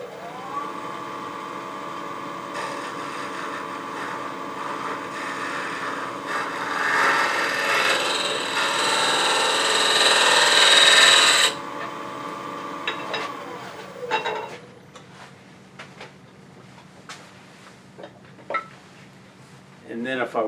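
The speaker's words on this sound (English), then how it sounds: "start off with a conventional round nose scraper that I can come across the bottom and get into that" A round nose scraper cuts across the bottom and into the corner of a wooden box turning on a lathe, giving a steady rasping scrape over the spinning hum that stops partway, followed by quieter scattered taps and rubs.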